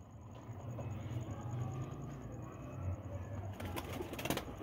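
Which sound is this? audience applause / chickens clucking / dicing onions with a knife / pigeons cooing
pigeons cooing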